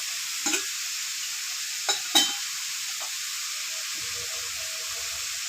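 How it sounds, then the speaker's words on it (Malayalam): Garlic and ginger fry in a pan for biryani, giving off a steady, even sizzling hiss. A few brief stirring knocks sound near the start. "വെളുത്തുള്ളി ഇഞ്ചി മൂത്ത് വന്നിട്ടുണ്ട് അപ്പൊ നമുക്ക് അതിന് ഉപ്പിട്ട് കൊടുക്കാം കുറച്ച്"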